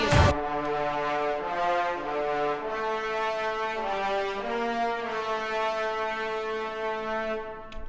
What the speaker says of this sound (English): So basically there's a strings and horn playing.